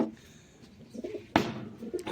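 Pigeons cooing close by in a coop during feeding, soft low murmuring coos with a sudden louder rustle or flap midway and more cooing after.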